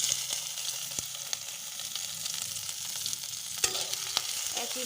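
Four green chillies and chopped garlic fry with cumin in hot oil, a crackling sizzle under repeated close spatula scrapes and taps, no voices.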